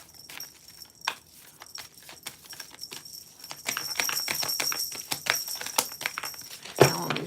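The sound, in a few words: tarot cards being shuffled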